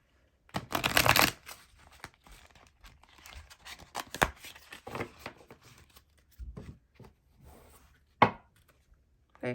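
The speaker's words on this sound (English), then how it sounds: "I'm going to give this a shuffle." A Fairy Tarot card deck being shuffled by hand, with close, crisp riffling and rustling bursts in uneven spurts and a sharp final snap near the end, without any talk.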